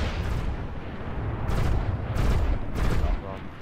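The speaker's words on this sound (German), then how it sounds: "Komm, schieß drauf, Leute." Bursts of gunfire and heavy blasts from a co-op shooter game rattle in rapid clusters, loud and dense, with louder volleys near the middle and end.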